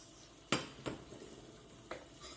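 Squid is added to a paella pan and stirred, with sharp metallic scrapes and clinks of the utensil against the pan over a soft background sizzle, heard up close.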